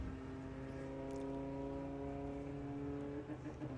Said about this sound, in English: Paul Robinson in chase mode in the Audi TT